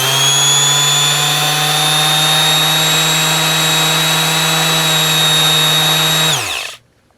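A TACKLIFE Mouse detail sander runs without sandpaper, giving a loud, steady, high-pitched motor whine close by for about six seconds before it winds down and stops.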